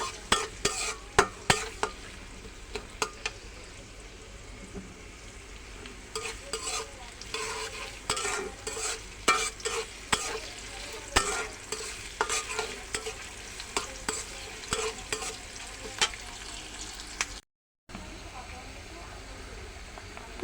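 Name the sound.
frying spices with chili and onion in a pan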